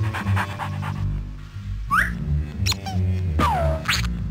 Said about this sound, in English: Here, dog fish, get your rubber ducky.